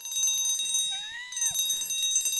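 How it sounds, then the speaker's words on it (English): A metal service bell on an office table rings once with a bright sustained tone that quickly dies away, over a quiet room with faint background noise. "Why is there a service bell on the table?"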